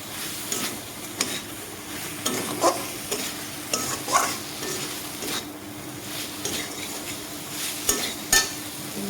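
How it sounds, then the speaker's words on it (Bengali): Fried bitter gourd pieces and spices are stirred in a pan, with repeated scraping strokes at an irregular rhythm over a soft, continuous sizzle, heard close up with no talking. "একটু নাড়ি চালিয়ে নেবো"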